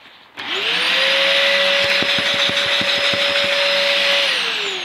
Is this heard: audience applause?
no